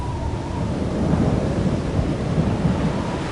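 A thunderstorm at sea rumbles with deep, continuous thunder and roaring wind, waves and rain blending into a heavy, loud wash of noise throughout.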